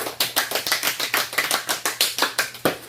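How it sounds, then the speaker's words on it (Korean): Group applause in a classroom, a steady run of sharp, evenly spaced claps from several students, fairly close, lasting the whole moment with no talking. "박수"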